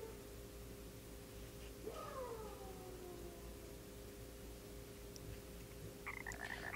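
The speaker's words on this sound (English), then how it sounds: "Oh, we have a frog." A frog in the video game Chibi-Robo! gives a faint falling croak-like call, followed later by a short warbling tone, over a low steady game background hum with no talking.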